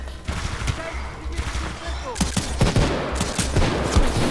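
Dense rapid gunfire from Titanfall 2 rattles almost continuously, with close bursts and sharp individual shots, while someone talks quietly underneath.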